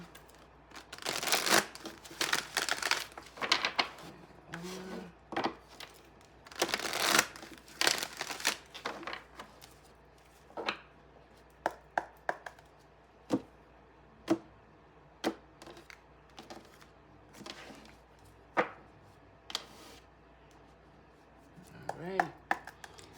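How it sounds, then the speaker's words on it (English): Tarot cards riffle and snap as a deck is shuffled by hand close up, with rapid papery bursts and then a string of single crisp taps, no talking. "Let me get a few more shuffles in and then we'll jump right in."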